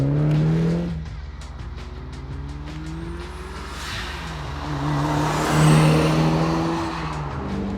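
A 1995 M Edition fitted with a big turbo and running flex fuel drives hard, its engine note climbing and falling through gear changes with a rising whine, loud and close throughout.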